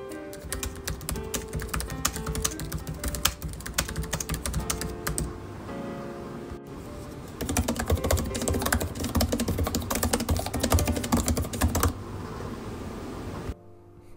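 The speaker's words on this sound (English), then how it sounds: "I've recorded the following two clips so you can get a better idea of what both keyboards sound like" Steady typing on MacBook Air M1 and 2015 MacBook Pro laptop keyboards, fast clicky keystrokes in two runs separated by a brief pause, close and clear with no voices.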